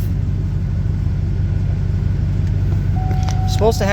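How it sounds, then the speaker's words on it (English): A truck engine runs at a steady, loud low rumble throughout, with a brief higher mechanical whine and rattling toward the end. "next we're gonna start the truck"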